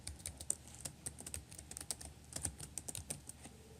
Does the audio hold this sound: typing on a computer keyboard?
yes